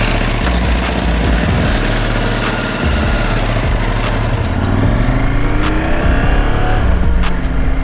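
KTM 890 Adventure motorcycle engine, a 2022 model, revving loud and close with punchy bursts, then rising through accelerating sweeps as it pulls away under power, no voices over it.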